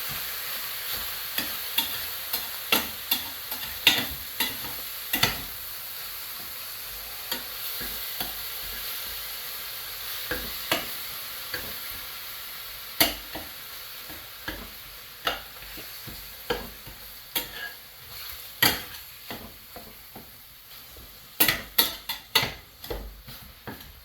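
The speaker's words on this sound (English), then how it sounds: "I've got 2 pounds of ground beef browning in the pan." Two pounds of ground beef brown in a pan, hissing in a steady sizzle punctuated by frequent sharp scrapes and clacks of a utensil stirring against the pan, close and alone.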